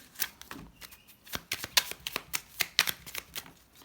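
A numerology oracle card deck is shuffled by hand in a run of quick, crisp riffling slaps and flutters, close and steady for several seconds with no talking.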